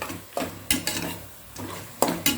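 Utensil scraping and stirring chicken with onions and tomatoes in a pan, a soft sizzle underneath, several distinct clanks as the food is tossed and turned.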